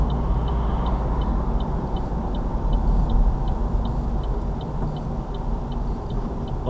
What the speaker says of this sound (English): leaving the right signal on as I come to the second